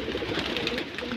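Pigeons kept at a home loft coo in a dense, continuous murmur of overlapping low calls, steady and fairly close, with no talking.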